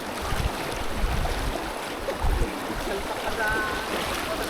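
A fast mountain stream rushes loudly and steadily, a dense wash of churning water close by with occasional heavier surges, and no clear talk over it.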